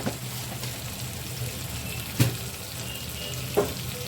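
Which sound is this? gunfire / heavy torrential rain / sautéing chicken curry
sautéing chicken curry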